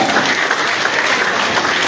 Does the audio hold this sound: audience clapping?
yes